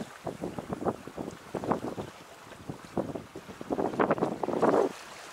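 A small, heavy 7-metre sailboat sails on open water during a test before an Atlantic crossing, with gusty wind buffeting the microphone and water rushing past the hull in uneven surges, close and steady, with no talk.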